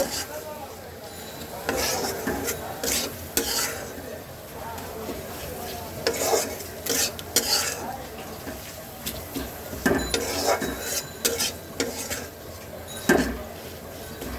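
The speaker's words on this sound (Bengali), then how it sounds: "এবার মশলাটাকে আর পেঁয়াজটাকে আরও সুন্দর করে কয়েক মিনিট ভাজা ভাজা করব" Onion with turmeric and coriander powder frying in a pan, a continuous sizzle broken by repeated scraping strokes of a spoon stirring, close and moderately loud.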